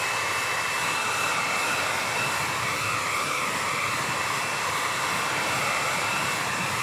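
A hair dryer blowing steadily to dry paint, a continuous loud whooshing hiss with a faint whine, unbroken and alone throughout.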